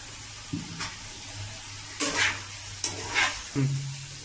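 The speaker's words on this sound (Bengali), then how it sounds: "আর মোটামুটি আমার পোস্তটা ভাজা হয়ে গেছে।" Poppy seed paste frying in a pan, a soft sizzle broken by a few brief scraping stirs of a spatula at irregular intervals, close and quiet.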